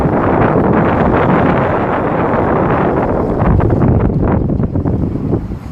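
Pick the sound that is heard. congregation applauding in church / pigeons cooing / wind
wind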